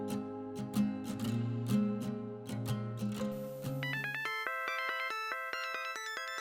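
A telephone rings with a bright electronic melodic ringtone of repeating stepped beeps, coming in after a stretch of soft background music and playing on steadily alone.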